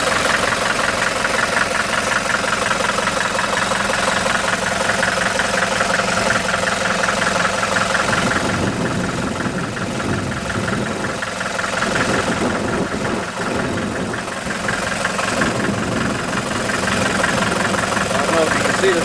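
A Farmall Super MTA diesel tractor idles steadily and loudly, its engine knocking in a constant rumbling chug close by with no break.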